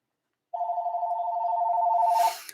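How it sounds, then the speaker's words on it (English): A telephone rings loud and close with one long steady electronic trill, beginning after a short silence and cutting off near the end with a brief noisy rustle. "I didn't even set the phone down. It was ringing."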